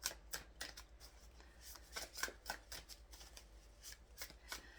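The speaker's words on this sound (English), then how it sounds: "We'll get a few shuffles here and see what's going on for my Pile 3." Tarot cards being shuffled by hand, a steady run of crisp riffling and slapping bursts at close range, continuous with no talk over it.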